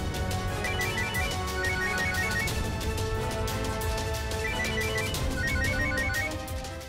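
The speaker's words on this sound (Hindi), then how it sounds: "फोन उठाइए चाची, फोन तो उठाइए" A telephone rings at home with a loud, repeating electronic ringtone pattern going on unanswered, close and steady, with no voices.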